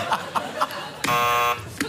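On a television comedy quiz show, a single loud game-show buzzer blares for about half a second, with short chuckles and laughter heard just before and after it.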